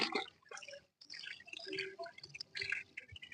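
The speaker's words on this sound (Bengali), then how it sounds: "এবার আমি ছেঁকে নিচ্ছি।" Cauliflower soaked in hot water with turmeric and salt is strained, and the water pours and drips off in uneven splashy bursts with a brief pause, close and fairly quiet.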